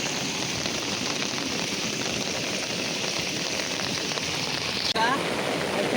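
Steady rain hisses continuously during the first shower of the monsoon near a flooded fishing spot, a dense close wash of drops with a brief disturbance near the end.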